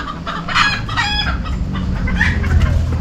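Chickens clucking in a coop, with one bird giving a rooster-like crow partway through, over steady farmyard background noise at close range.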